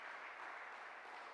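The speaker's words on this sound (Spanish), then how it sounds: "Un aplauso al Señor," Church congregation clapping together in a steady, dense wash of applause, fairly close and even in loudness, with no voices standing out.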